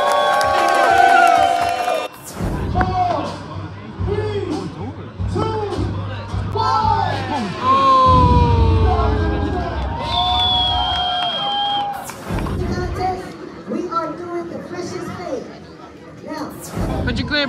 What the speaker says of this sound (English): please welcome them with a big round of applause for flying out here